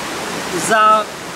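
A waterfall's steady broadband roar fills the scene on a walking path among several falls, constant and close, with a brief voice-like tone rising over it midway.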